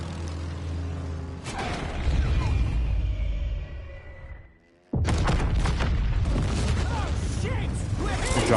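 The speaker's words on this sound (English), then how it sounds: "We dropped the barrage" Artillery barrage in Battlefield 1: a rumbling roar of battle fades to near silence, then a loud burst of blasts and crackling debris erupts and continues densely to the end.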